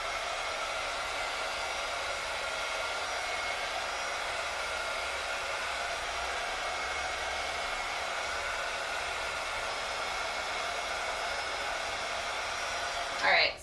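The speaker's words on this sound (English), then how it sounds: "you're going to turn on your heat gun, and then you're going to try to cure it evenly and not too hot in any one space" A heat gun blows steadily to cure 3P QuickCure polymer clay, a close, even whooshing drone lasting about thirteen seconds before cutting off abruptly.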